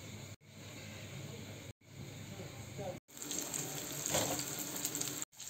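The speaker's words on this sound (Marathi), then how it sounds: "आणि तेल उडतात चाट चाट चाट तेल भाजायसारखं. त्यामुळे नीट काळजीपूर्वक मासा तळायचं पानगा." Fish coated in a semolina mix frying in hot oil in a pan, a steady crackling sizzle that swells louder midway, with brief cuts in the sound.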